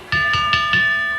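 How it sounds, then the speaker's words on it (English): A wrestling ring bell starts a match, a bright metallic ringing struck about four times in quick succession, then a sustained tone over a steady background. "Referee calls for the bell."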